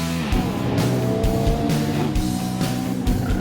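Race cars slide and skid through an oil-slicked first turn at a KZN road racing championship round, engines roaring loudly and steadily with repeated tyre squeals and scrubbing bursts.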